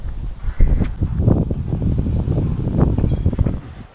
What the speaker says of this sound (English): Wind is coming on me back.